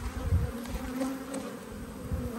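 Disturbed honey bees from an open hive hum in a steady, close, continuous drone with slight swells in loudness, the buzzing carrying alone without talk.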